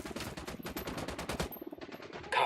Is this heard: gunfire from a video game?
yes